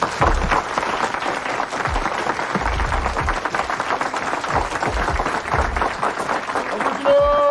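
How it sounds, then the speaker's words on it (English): Rousing applause at a Philadelphia mosque gathering for its captain, a dense, loud, continuous sheet of crowd clapping with occasional heavier beats, sustained throughout. "we want to receive with a rousing round of applause our beloved captain here"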